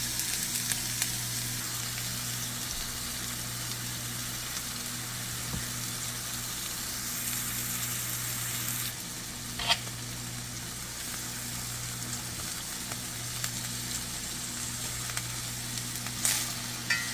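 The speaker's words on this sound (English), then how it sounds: "my chicken is still over there frying up" Chicken frying in a pan on a home stovetop, a steady close sizzle with faint crackles running the whole way through and no one talking.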